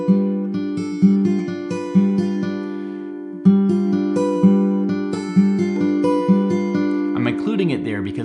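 Fingerstyle acoustic guitar plays the intro riff of a song, a clear, close, rhythmic pattern of plucked notes over a ringing bass, repeated twice before the last notes fade into a brief rustle.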